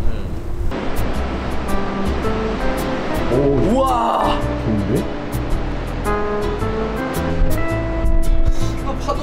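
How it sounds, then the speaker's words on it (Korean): Ocean waves break and wash continuously at the sea, a broad, steady roar that swells near the end, while people exclaim excitedly over it. "아, 파도 봐!"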